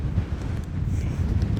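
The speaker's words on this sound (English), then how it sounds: "it's super windy out" Gusty wind buffets the microphone in low rumbling puffs while shed hunting outdoors, steady throughout with no voices.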